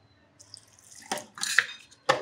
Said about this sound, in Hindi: थोड़ा सा पानी डालते हैं इसके अंदर।